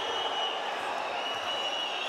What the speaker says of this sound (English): The crowd doesn't like that one bit.